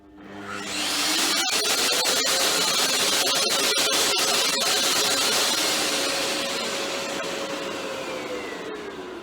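A Festool TKS 80 table saw with SawStop spins up quickly into a loud, steady whirring run, then slowly winds down, heard up close with no talk.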